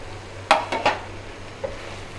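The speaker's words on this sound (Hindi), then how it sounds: "भिंडी डालकर अच्छे से इसको मिक्स करना है" Okra is tossed into a pan of fried masala and mixed, with a couple of sharp metallic clanks and scrapes of a spoon against the pan, then a softer tap over low background hum.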